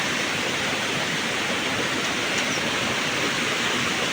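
A river flows steadily in a rural Philippine marshland, a dense, even rush of water that fills the whole clip, loud and close with no pauses or voices.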